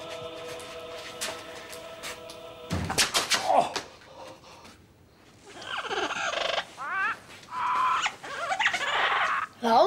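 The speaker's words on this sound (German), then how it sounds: "Hör auf, du blöder Vogel" A bird squawks and gobbles loudly in bursts, mixed with clattering and other noises, following a steady humming tone at the start.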